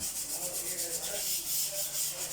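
Steady rhythmic scratching of sandpaper rubbed back and forth over a surface, a quick repeating stroke pattern heard close up.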